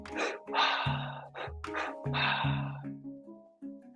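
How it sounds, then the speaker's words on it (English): Strong, deep breaths are drawn in and pushed out during a morning meditation breathing exercise, heard as loud, rushing inhales and exhales in a steady rhythm with a faint tonal drone beneath. "Healthy, full breaths that expand the lungs horizontally."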